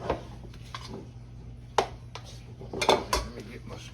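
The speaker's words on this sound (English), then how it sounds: "let me get my rolling pin here" A rolling pin is picked up in a home kitchen where biscuits are being made, with scattered knocks and clatters of wood and utensils against a counter over a low hum, several of them sharp and close together.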